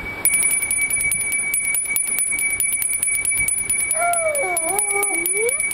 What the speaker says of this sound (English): Can you ring the bell